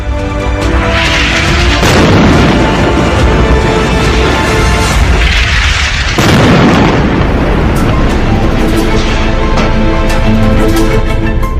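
Heavy bombing explosions roll through Gaza's Khan Younis area, with loud continuous booming and rumbling in two large overlapping waves. The blasts are close and dense, and nobody speaks.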